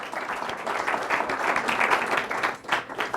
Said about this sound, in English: Maybe we can save our applause to the end